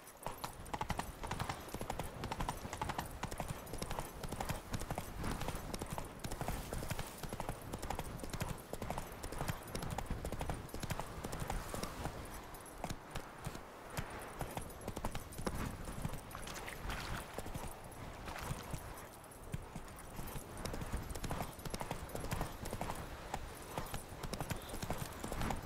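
The horse from The Witcher 3 video game gallops on and on, its hooves pounding in a fast, loud, continuous rhythm of clip-clops throughout.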